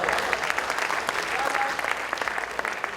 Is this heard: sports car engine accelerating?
no